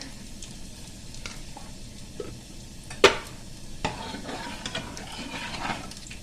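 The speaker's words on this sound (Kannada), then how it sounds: "ಉಪ್ಪು ಹಾಕೊಂಡು ಮಿಕ್ಸ್ ಮಾಡ್ಕೊಳ್ಬೇಕು" Salt being stirred into dal in a pan with garlic for rasam: soft continuous sizzle with scraping stirs, one sharp clink of a utensil against the pan, close and without talk.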